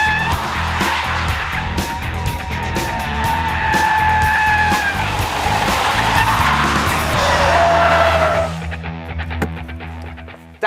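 Porsche Cayenne Turbo, its four-wheel drive sending all power to the rear wheels, drifts with loud, sustained tire squeal and skidding over a revving engine, the screech rising and wavering before cutting off near the end.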